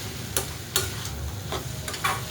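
Cluster beans stirred with salt and turmeric in a pan, a spoon scraping in steady strokes about every half second over a soft continuous sizzle, close and moderately quiet.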